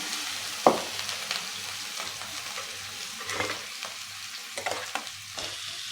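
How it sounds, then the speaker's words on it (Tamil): Kendai fish shallow-fries in coconut oil on a flat dosa pan, a steady close sizzle punctuated by several sharp spatters and scraping turns. "டீப் ஃப்ரை பண்ண வேணாம், ஷாலோ ஃப்ரையே பண்ணிக்கலாம். இப்போ நம்ம கல்லில் ஒன்றா போட்டுக்கலாங்க."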